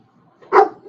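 A single loud dog bark up close, a short sharp burst from a puppy-owning household, standing alone with quiet before it.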